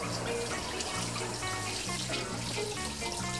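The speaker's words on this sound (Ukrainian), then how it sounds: "от включаю холодну воду" Cold water gushing steadily from a tap into a sink, a constant close splashing rush with no voices.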